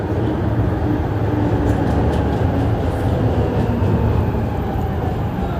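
A train passes close by on a street-side track, a loud continuous rumbling roar with rattling wheels that holds steady throughout, no voices over it.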